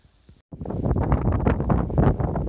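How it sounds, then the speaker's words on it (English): Loud, continuous wind buffeting the microphone on a mountain summit in the White Mountains, a low roaring rumble after a brief quiet start, with no voices. "Sorry about the wind."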